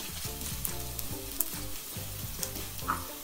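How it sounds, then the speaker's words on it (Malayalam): Onions sauté in a pan for a Kerala toddy-shop style ayala (mackerel) fish curry, giving a close, steady sizzle broken by regular scraping stirs, with no talk. "അപ്പോൾ നമ്മുടെ ഉള്ളിയൊക്കെ നന്നായി വഴണ്ട്"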